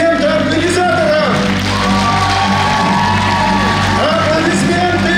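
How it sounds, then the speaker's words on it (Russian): A festival audience cheers and applauds for the organizers, a steady roar of crowd noise with whoops and shouts while a voice calls out over a loudspeaker. "Аплодисменты организаторам!"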